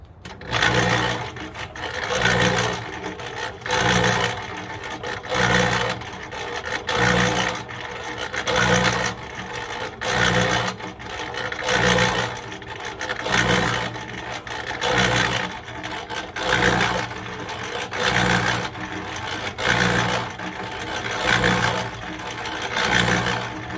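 A Harbor Freight mixer turns a load of vermiculite and sawdust, giving off a steady, rhythmic churning rumble that swells and fades about every two seconds, close and continuous.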